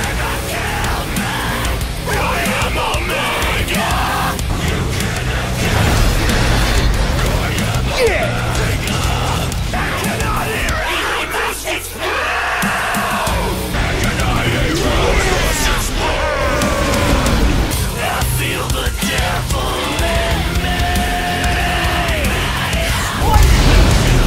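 Devil May Cry 5 trailer song: heavy metal with driving distorted guitars, pounding drums and a screaming, bellowing new vocalist, loud and continuous throughout.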